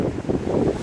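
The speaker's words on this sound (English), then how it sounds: "It's really windy. It's proper wind around here, man." Strong outdoor wind buffets the microphone in a steady low roar with gusty surges, loud and close, no voices over it.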